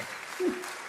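A brief burst of studio applause on a breakfast radio show, steady and even, with a short tonal blip midway.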